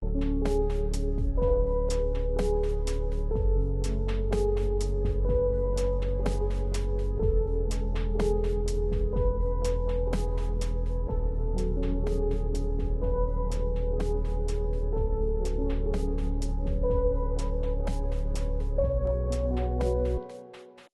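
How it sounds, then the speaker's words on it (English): A steady drum machine groove taps out crisp, evenly spaced hits over a deep sustained Moog synth bass and chordal backing, looping without pause until it cuts off. "I am thinking of adding some drums, and I fiddled about with Macshine for a little"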